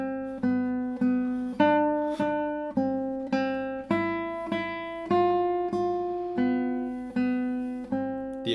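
A solo guitar picks out a melody line, distinct plucked notes in a steady phrase, each ringing and decaying before the next, close and clear with no talking.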